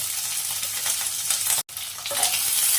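Spices, raisins, green chillies and ginger paste sizzle hard in hot oil for a chana dal, a steady close frying hiss with a brief dropout partway through.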